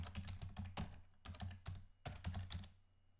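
Rapid keystrokes on a computer keyboard while JavaScript code is typed into a code editor, coming in close, quick bursts separated by short pauses, with no talking.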